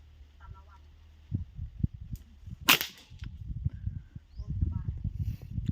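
PCP air rifle firing at 25 meters outdoors: a single sharp, snappy crack midway, close and fairly loud, among handling rustles and quiet background talk.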